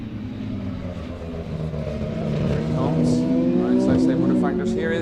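A Citroen DS3 rallycross car races at Mondello Park, its engine rising loud and close with sliding revs, under continuous excited commentary.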